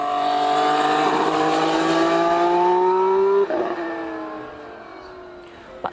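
A 2014 Formula 1 car on track during pre-season testing at Jerez roars loudly, its engine pitch climbing steadily before dropping sharply and fading as it runs away into the distance, heard alone without talk.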